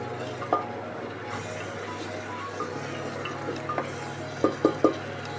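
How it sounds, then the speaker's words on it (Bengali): Spice paste being stirred and fried in a pot while ghugni is made in a pressure cooker: a low steady cooking hum with soft intermittent scrapes and a few sharp clinks of a spoon near the end, with no voices. "দিয়ে এটাকে আমি ভালো করে নাড়ব একটু কষে নেব মশলাটা"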